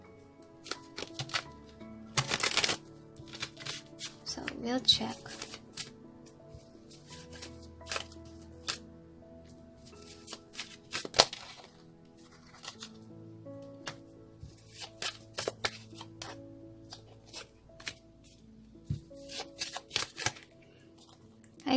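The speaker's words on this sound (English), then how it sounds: "One more shuffle, they say." Tarot cards are shuffled and handled in a scattered run of soft riffles, flicks and taps of varying loudness, with a short stretch of quiet speech.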